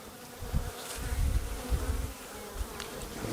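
Honey bees buzzing around an opened hive during an inspection of honey frames, a steady dense drone with swelling low pulses as bees fly close past, no voices heard.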